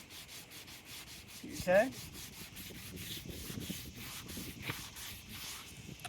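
Hand sanding a yellowed car headlight lens produces a soft, steady rubbing scratch, repeated strokes fairly close, with a brief louder squeak-like rub early on and a short spoken word.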